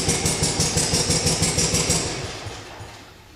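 An old tractor engine with a cast iron block chugs with a steady, rhythmic knock close by, then slowly winds down and fades toward the end.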